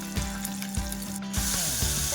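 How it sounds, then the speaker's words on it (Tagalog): Chicken wings sizzle continuously in hot oil, a dense hissing bubble with occasional soft thumps, with no talking. "niluluto na natin yung ating unang salang na manok"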